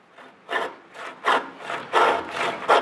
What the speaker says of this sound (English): you got a big saw kerf in here, and you're just taking the time to cut that out